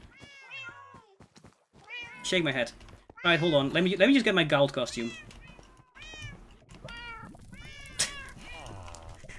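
Cat meows in the Minecraft video game, several short mewing calls scattered through the clip under someone talking, with a louder burst of overlapping meows near the middle.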